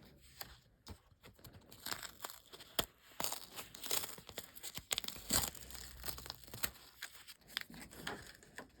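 Sticky tape is peeled off an in-the-hoop embroidered zipper bag and crumpled up close, giving a busy run of crackling, tearing and crinkling noises with sharp snaps, without speech.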